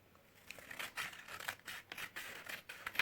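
Scissors snip through paper while shaping a paper crocodile's tail, a series of soft, quiet crisp cuts in an irregular rhythm, close by and alone.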